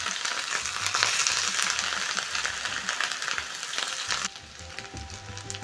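Kapenta, small dried fish, sizzling and crackling in hot oil, a steady frying hiss with occasional stirring clatter, quieter toward the end.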